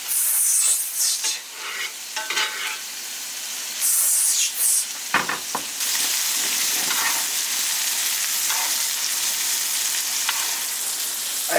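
Steak sizzling and frying in a pan with butter, thyme and salt, stirred and basted outdoors while glamping in Wales; a loud continuous hiss with bursts of spatter and scraping, no talk.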